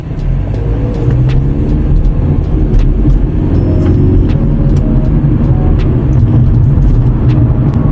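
A car fitted with Caribbean Fin RS Gen3 struts is driven over bumps and road joints, giving a loud, steady interior rumble broken by repeated short thuds and knocks, with no talking.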